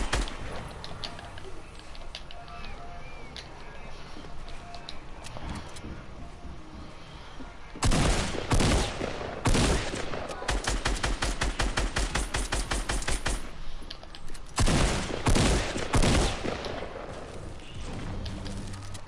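Gunfire from Fortnite in Avengers mode: bursts of rapid, loud automatic shots and booms come in two dense stretches after a quieter opening, with no voices.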